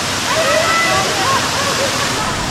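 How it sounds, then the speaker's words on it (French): A small waterfall in Martinique rushes and splashes steadily nearby, a dense constant roar of water with faint bird chirps above it. "elle envoie la petite cascade"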